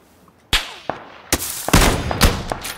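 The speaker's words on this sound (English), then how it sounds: "Double headshot. Two bullets, two kills." Video game gunfire during a double headshot: a handful of sharp, loud shots spaced irregularly over a few seconds, each with a ringing metallic tail and no talking.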